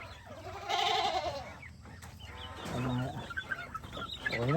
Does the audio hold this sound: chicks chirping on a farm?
yes